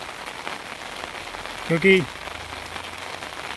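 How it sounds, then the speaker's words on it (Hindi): Heavy rain pouring at Maa Ghata Wali in Udaipur, a dense, constant hiss filling the background while someone speaks briefly over it. "भाई, इधर हो रही बहुत भयंकर वाली बारिश"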